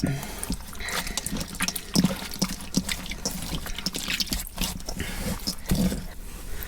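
Tap water runs and splashes onto a signed Liverpool football shirt being rinsed in a sink, with irregular splattering and dripping bursts over a continuous flow, fairly close and loud.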